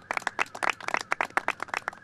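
A small crowd claps at a government rail project announcement, a brief burst of scattered, moderately close handclaps that stays fairly light and uneven.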